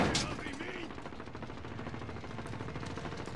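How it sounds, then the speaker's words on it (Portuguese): Sustained rapid gunfire from a helicopter in Call of Duty: Modern Warfare, a dense continuous clatter of shots with a brief voice near the start. "Eu tô na rua tomando tiro do helicóptero"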